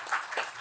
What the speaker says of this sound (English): I have to give you an extra round of applause